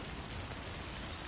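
Steady rain pours in the video game Death Stranding 2, a dense even hiss with no voices over it.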